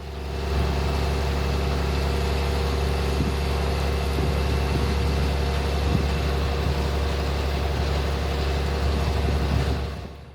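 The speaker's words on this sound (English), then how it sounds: "we are out in the field with this farm working on planting oats with their STX375" Case IH STX375 tractor on triple tires planting oats in a field, its engine giving a steady, loud low drone that holds unchanged throughout with no voices.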